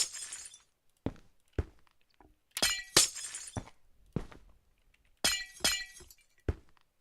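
Glass windows shattering one after another in Minecraft, sharp bright breaks in quick irregular bursts with short silences between, some in close pairs, alone without talk.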